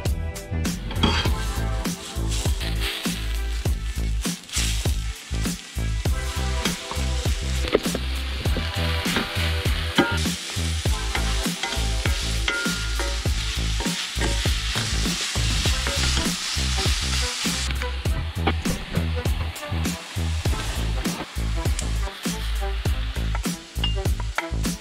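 Loud, steady sizzling of onions and sausage frying in a pan, with occasional scrapes and clinks of stirring throughout.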